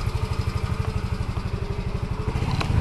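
A motorcycle engine idles close by before a ride, with a steady, rhythmic putter and a light mechanical clatter throughout.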